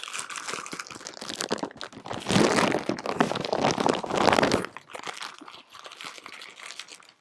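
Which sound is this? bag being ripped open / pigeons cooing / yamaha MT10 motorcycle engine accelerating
bag being ripped open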